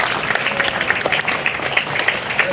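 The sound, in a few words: audience applause after glassblowing demonstration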